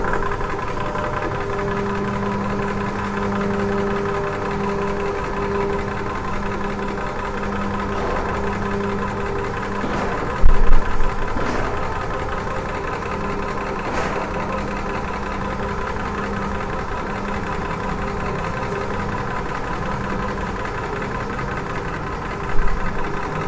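A battery-powered PCP air compressor runs continuously with a steady mechanical hum and faint whine, broken twice by short thumping knocks.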